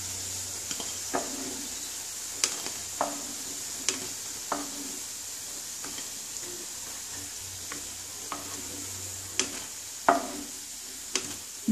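Fish roe fritters fry in oil with a steady, moderate sizzle. Scattered sharp taps of a utensil against the pan sound through it, and no one speaks.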